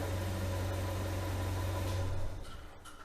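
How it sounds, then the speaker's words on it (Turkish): Volkswagen Golf 7 engine running steadily after a remote start-stop command, a close, even low hum that drops away and fades near the end. "Marş emrini aldı. Bir süre bekledikten sonra marş emrini yerine getirdi."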